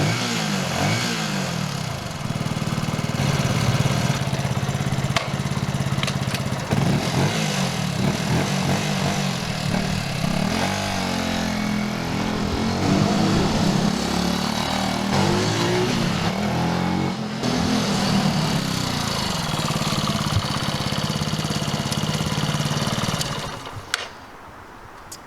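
A Benelli Special motorcycle engine drones steadily while being ridden, a loud continuous thrum with slight rises and falls in pitch and a brief drop near the end.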